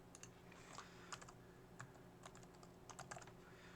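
Computer keyboard keys click in quick, irregular bursts during circuit design work in KiCad, light close taps over a faint steady hum.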